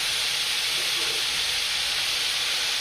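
Onion, tomato, garlic, ginger, coriander and coconut mixture frying in a pan for egg curry, a loud, dense, continuous sizzling hiss heard up close.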